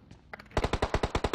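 Gunfire in the mobile battle royale game PUBG Mobile on the Miramar desert map: a rapid automatic burst of about eight loud, evenly spaced shots, preceded by a few fainter pops.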